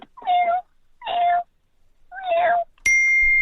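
A person imitates a kitten's small meow, three short, high, rising-falling mews spaced about a second apart, followed by a bright ringing ding at the end.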